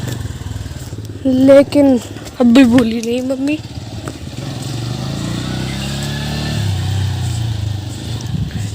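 A motorbike or scooter ridden outside by a woman in a slightly halting way gives a low, moderately distant engine hum under a voice. The hum continues after she stops speaking.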